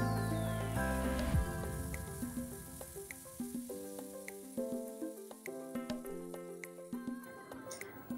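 Masala paste made with onion paste and a pinch of salt fries in a pan for a drumstick curry, giving a soft, continuous sizzle. It stays quiet beneath background music.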